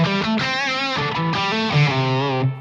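Crunchy, distorted electric guitar tone through a Red Seven Leviathan preamp on a Line 6 Helix, a few sustained chords and notes played close and loud with no talking.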